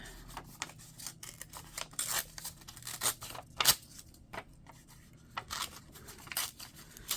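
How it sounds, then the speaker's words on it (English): Paper postage stamps being torn by hand in short, irregular rips and crinkles, close and fairly quiet, with pauses between tears and no talking. "Now these, I'm going to tear these."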